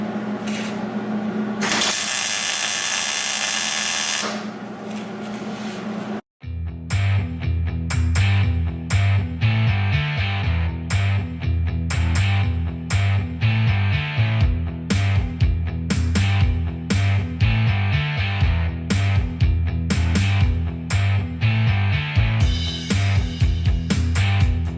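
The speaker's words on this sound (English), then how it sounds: "Fire on the welder, go to town." A welder lays plug welds on the floor pan of a 1971 Camaro, with a long hiss followed by a run of short, crackling bursts that stop and start repeatedly.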